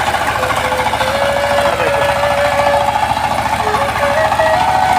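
A machine fitted with tyre wheels ploughs a waterlogged field, its engine running in a steady, close chugging rhythm with a faint whine over it and no talk.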